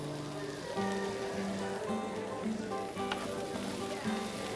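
Vegetables seasoned with salt and white pepper sizzle steadily in a pan, a soft continuous hiss with faint scraping as they are stirred, while a cook talks in a low voice over it.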